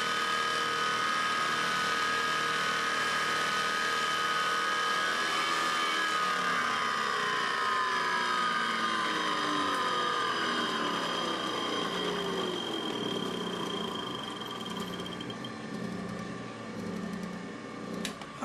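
A Sun 404 engine runs steadily at around 4,600 RPM, a loud, continuous mechanical drone with high whining harmonics and slowly shifting tones, no talk over it.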